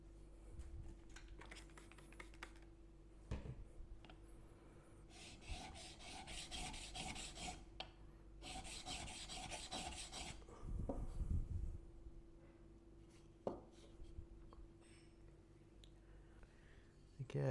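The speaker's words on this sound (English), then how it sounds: "we use a 600 grit diamond stone for that" A blade bevel is rubbed back and forth on a 600 grit diamond stone in rhythmic bursts of gritty rasping strokes, with pauses and knocks between sets over a steady low hum.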